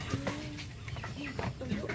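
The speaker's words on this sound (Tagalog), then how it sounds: "Ito yung patukan namin sa manok." Short clucks and murmurs from several chickens at a mountain homestead, close by, scattered across a steady low background hum.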